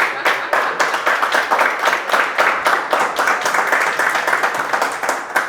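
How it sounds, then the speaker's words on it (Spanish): Loud, dense applause from a conference audience fills the whole stretch, a steady wash of many hands clapping with no voices over it. "aplauso fuerte para ellos"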